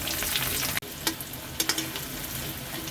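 Onion, turmeric, cardamom and cumin frying in a pan for paneer pav bhaji, a steady close sizzle broken by a brief pause and a few sharp stirring scrapes.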